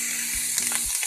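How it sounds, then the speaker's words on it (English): Ham and red onion frying in a pan, a close, continuous bright sizzle with a few soft stirring knocks. "It's going to be just some basic ham, cooked with some red onion."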